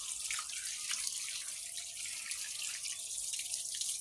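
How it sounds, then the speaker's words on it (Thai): Running water rinses turmeric paste from a dog's coat, a steady close splashing hiss with faint dripping and no voices. "ล้างขมิ้นออกครับ"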